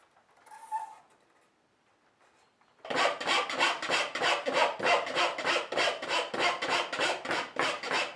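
A hand saw cuts away waste wood on a machete handle in steady, rhythmic rasping strokes close by, with a brief scrape just before the sawing starts.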